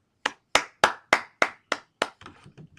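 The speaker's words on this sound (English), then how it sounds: "And you got to give it to Miguel Cotto and give him a head clap." Seven crisp hand claps in a steady, evenly spaced rhythm, close and loud, followed by a softer, faster patter of lighter claps trailing off.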